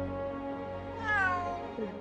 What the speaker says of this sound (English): Cat, dressed as Captain America.